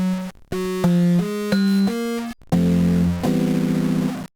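Electric-piano bass run through Ableton Roar with bit crushing and shards, a gritty, buzzy distorted tone in separate sustained notes with short gaps, loud and close, no talking.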